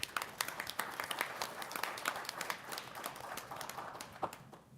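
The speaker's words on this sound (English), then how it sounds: "Let's give her a round of applause." A modest crowd at a board of education meeting claps for a student honoree, a fairly quiet, uneven patter of individual hand claps tapering off near the end.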